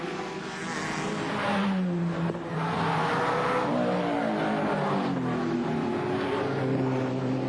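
A VL Holden Commodore race car laps the Bathurst circuit in 1990, its engine note rising and falling through gear changes as it passes, loud and continuous with no talk.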